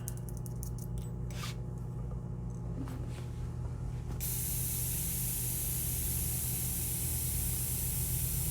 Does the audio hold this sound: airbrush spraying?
yes